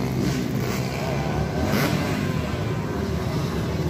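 A trail motorcycle engine revs steadily at a rough outdoor trail riding event, a continuous loud mid-pitched drone with slight swells in throttle.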